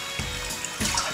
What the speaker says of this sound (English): fish tank water. I'm just gonna fill this up.